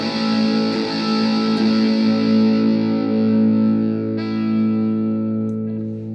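Electric guitar played through a Barber Five Watt World BUSS drive pedal with its toggle in the middle position, a loud, sustained distorted chord ringing out and slowly decaying, with a couple of light pick touches and no talking.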